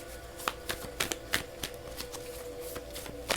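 Tarot cards being shuffled at close range, a series of crisp riffling bursts in an irregular rhythm, fairly quiet over a faint steady background hum.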